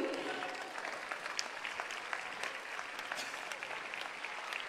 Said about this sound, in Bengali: করতালির মাধ্যমে বরং আমরা এই মুহূর্তটার সঙ্গী হই